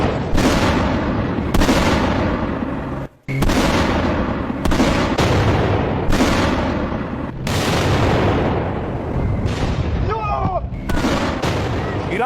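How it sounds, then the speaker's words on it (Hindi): Missiles strike buildings in Israel, a barrage of heavy booming blasts and rumbling explosions, one after another with brief gaps, loud and continuous for several seconds, with faint voices beneath. "अब ये मिसाइलें धमाका कर रही थी, इमारतों पर गिर रही थी"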